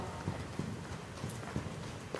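A horse's hooves strike the arena footing during a dressage test as it breaks from trot into a few walk steps, a faint, evenly spaced clip-clop at a distance.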